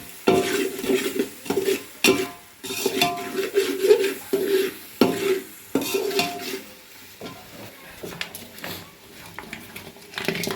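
Village-style chicken masala is stirred and roasted in a pan, with a spoon scraping and clinking against the metal in repeated strokes over a soft sizzle, close and clear, with a voice speaking at times.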